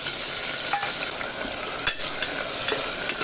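Curry leaves, chilies and tomatoes sizzle in hot oil in a pan, giving a loud, constant crackling hiss with a few sharp pops and stirring clinks.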